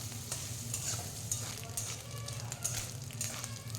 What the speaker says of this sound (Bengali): ওই তেলেতেই আমি নারকেলগুলো ভেজে নেব।